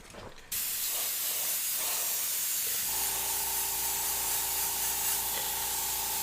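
Freehand airbrush spraying paint gives a loud, steady hiss that starts abruptly and runs unbroken, joined midway by a constant faint tonal hum.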